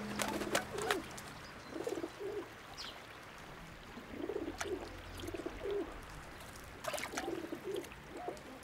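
Pigeons coo repeatedly at a riverside drinking spot, soft low throaty calls arriving in several bursts against a quiet outdoor background with faint trickling water.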